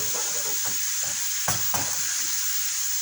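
Dough fries in hot oil with a steady, bright sizzle throughout, broken by a few soft stirring scrapes and two sharper clinks near the middle, close and moderately loud with no voices.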